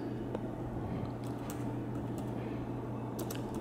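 Light tapping on a Bluetooth touchpad keyboard, faint scattered clicks over a steady low hum in a quiet room.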